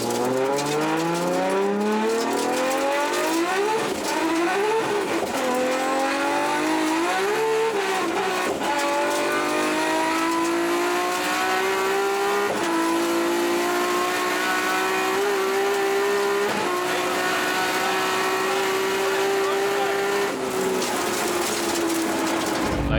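A Gidgee Motorsport Nissan R33 GTR race car accelerates hard down a runway at a top-speed event, its loud engine climbing through gears with rising whine and brief shift dips, sustained and close throughout.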